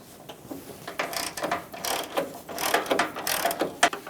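A ratchet clicks steadily up close as it loosens a bolt beneath the headlight trim bezel on a Ford E-350 Super Duty van, with rapid pawl ticks in uneven bursts.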